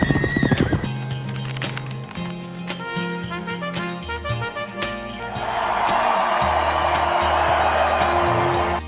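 Horsemen ride past on horseback, hooves clip-clopping in a steady rhythm with a horse neighing, all set under an orchestral music score.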